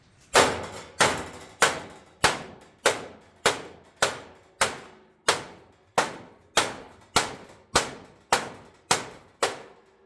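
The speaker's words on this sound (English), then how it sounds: "Just hit it with our dead blow hammer." A dead blow hammer strikes a bent windmill vane over and over, about fourteen dull, even thumps at a steady pace, each with a short decay, close and loud with no talking.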